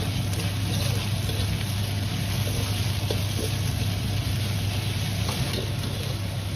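Marinated pork shreds stir-fried in a hot wok for green pepper pork, pushed apart and turned quickly with a ladle: a loud, steady sizzle of oil with scraping stir strokes running through it, close and without talk.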